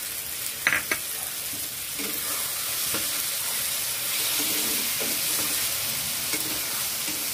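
Ginger, green chilli, garlic and onion paste fries with spices in a pan for Bangladeshi-style egg bhuna, giving a steady close sizzle with a few sharp clicks of stirring near the start.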